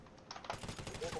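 Rapid bursts of gunfire from a shooting video game during a competitive match, a quick clattering volley of shots under excited commentary.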